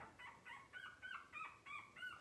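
A little puppy, strayed from its littermates, gives a steady run of high, thin squeaks and whimpers, about five or six repeated cries at a regular pace, faint and nearby against soft background noise.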